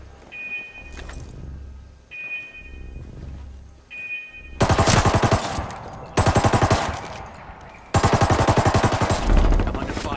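Automatic gunfire in a military video game rattles in rapid bursts of dense, loud shots after a quieter stretch of rhythmic pulsing game sounds.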